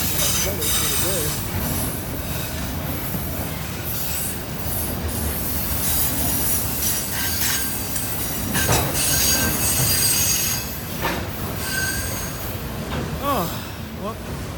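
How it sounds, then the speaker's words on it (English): A long train rolls past close by with a loud continuous rumble, wheel squeals and rattling cars throughout, and a voice speaks faintly underneath. "There's the end of the train."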